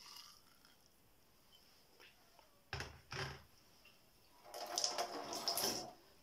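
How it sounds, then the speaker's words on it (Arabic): Boiled water poured over thyme, a few short splashing bursts followed by a longer, louder stream of water near the end, with quiet gaps in between. "وغادي نكبوا عليها الماء طايب"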